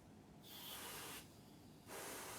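Two bursts of freezer spray hiss onto a small chip on a Samsung LCD TV circuit board, each loud, steady blast lasting most of a second with a brief pause between.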